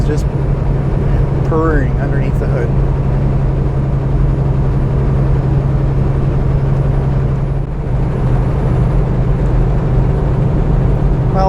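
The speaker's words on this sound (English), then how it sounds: "that Cummins is just purring underneath the hood" A Cummins diesel in a Kenworth T680 heavy-duty truck cruising in top gear at about 100 km/h, a steady low drone and road rumble throughout, with someone talking over it.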